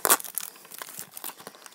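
Packaging of a Shopkins toy basket crinkles and tears as it is opened, a sharp rip at the start followed by scattered close, light crackles of plastic and cardboard.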